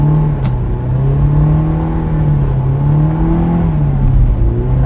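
2001 Honda S2000 driving on a snowy winter road, its engine humming loud and close from inside the cabin, pitch gently rising and easing with throttle, steady throughout with no talk.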